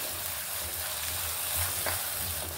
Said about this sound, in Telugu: ఇప్పుడు ఒక టమాటా వేసుకుందాం. ఇప్పుడు ఈ టమాటా ముక్కలు కూడా మెత్తగా మగ్గిపోవాలి